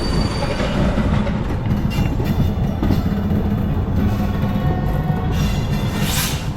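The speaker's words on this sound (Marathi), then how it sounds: "ट्रेन सुरू झाली आहे तीन वीस वाजताच इथून निघाली आहे" A train rumbles steadily along, a dense continuous roar of wheels and carriage noise heard from inside, loud and unbroken.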